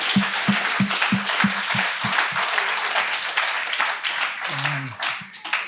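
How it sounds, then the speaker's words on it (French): A church congregation applauding at a worship service, with a few sharp, rhythmic claps leading into fuller, overlapping clapping from many hands; a brief voice cuts through near the end. "on peut l'applaudir."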